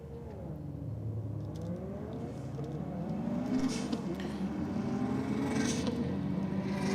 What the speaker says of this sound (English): The blow-off valve fluttering away once again.